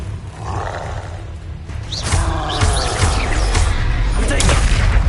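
Bombarda spell blast in the Hogwarts Legacy video game, a rumbling, roaring explosion that swells after about two seconds and stays loud and dense to the end, with bursts of magical whooshes layered over a heavy low boom.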